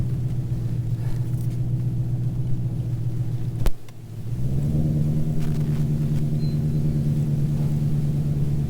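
A 2020 Shelby GT500 idles with a deep, steady engine rumble, then a brief sharp knock and a dip before the engine note swells back to a steady drone as the car turns around, close and continuous throughout.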